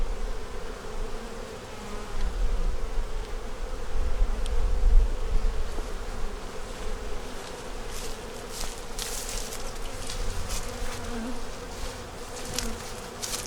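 Honeybees on a brood frame of worker and drone cells in an opened hive, a dense continuous buzzing hum, close and steady, with brief sharper rustles and wingbeat flurries later on.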